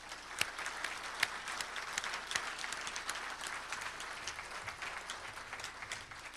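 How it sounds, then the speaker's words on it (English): Applause at the 2013 Riverfest Commodore Banquet, a steady round of many hands clapping heard from some distance at modest volume, with a few sharper claps standing out. "I think they deserve a round of applause for that"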